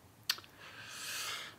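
A single crisp click of the enter key on a computer keyboard, close and quiet, then a soft airy hiss fades in and trails off.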